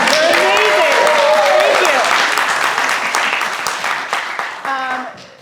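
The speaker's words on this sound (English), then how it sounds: "Oh yes, clap for them." Loud, dense applause from a crowd, steady at first and gradually thinning, with voices and cheers mixed in.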